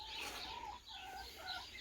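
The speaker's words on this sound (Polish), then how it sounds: "Wyskubane te moje kury." Soft clucking and murmuring from a few chickens, steady and fairly quiet, with a low background hum.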